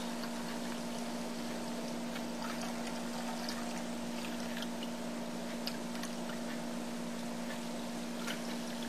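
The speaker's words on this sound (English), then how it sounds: "Pour the broth over the broccoli." Broth poured from a container over broccoli in a soup pot, a steady, continuous liquid rush with a constant hum underneath, close and even throughout.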